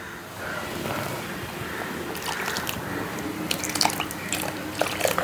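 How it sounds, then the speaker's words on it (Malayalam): Water splashes and drips into a pot of jackfruit seed, mango and drumstick curry with ground coconut paste, soft trickling and splattering close by with no talk. "കുറച്ചൊരു വെള്ളം കൂടി ഒഴിച്ചു കൊടുക്കാവേ."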